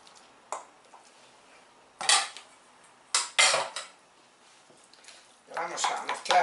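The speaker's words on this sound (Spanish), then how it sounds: "voy a batir los huevos" Eggs beaten with a utensil in a bowl for a potato tortilla, heard as a few separate bursts of quick clattering scrapes against the dish with quiet gaps between them.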